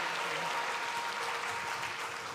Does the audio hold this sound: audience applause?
yes